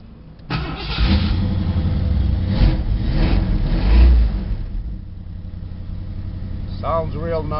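A 1973 Ford Mustang convertible with a 351W V8 cranks over and fires up, then settles into a steady rumbling idle with a couple of light revs; a voice speaks briefly near the end.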